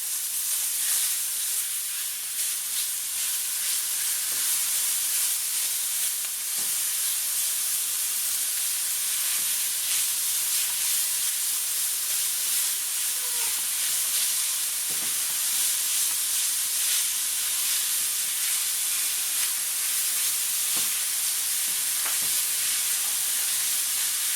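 Onions sizzling in a hot pan with browning Italian pork sausage, giving a steady, dense frying hiss that runs the whole time with faint stirring clicks and no talking.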